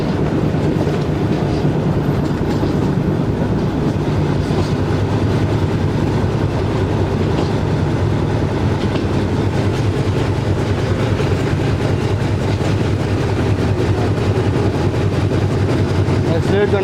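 A passenger train between Rawalpindi and Havelian rolls steadily along the down main line after a track change, with a continuous low rumble and rhythmic wheel clatter heard from on board.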